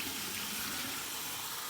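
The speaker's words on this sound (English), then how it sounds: "Okay, here's my cold water rinse." Cold tap water pours from a faucet for a final rinse after shaving, a brief, close, steady splashing rush.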